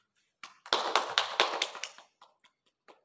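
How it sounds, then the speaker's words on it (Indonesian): A classroom of students applauds: a short burst of quick, close handclaps that thins into a few scattered claps and fades within seconds. "Bapak beri aplaus untuk anak-anak semua."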